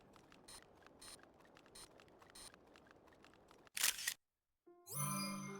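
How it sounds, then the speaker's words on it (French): An in-game camera shutter sounds in Zelda: Tears of the Kingdom: a sharp bright burst, a short silence, then a rising electronic confirmation chime, all after quiet background game ambience with soft ticking. "On va la prendre en photo cette map."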